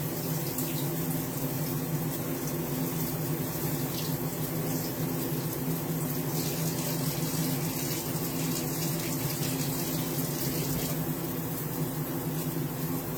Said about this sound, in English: Rinse, broccoli crowns, rinse.